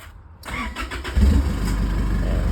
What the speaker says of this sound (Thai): โอเคสตาร์ทฟังเสียงเครื่องค่ะ